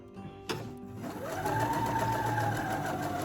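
A sewing machine runs a stay stitch along a waistband, starting with a click and then whirring steadily at close range for a few seconds.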